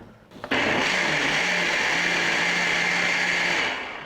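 A kitchen blender kicks on sharply and grinds a large onion and a big pear coarsely, a loud steady whirring roar holding for about three seconds before winding down.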